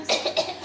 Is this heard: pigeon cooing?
no